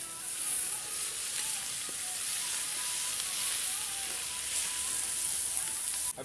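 Onions sizzling and frying in a pan while chicken curry is cooked outdoors with truck drivers, a steady dense hiss filling the whole stretch without pause.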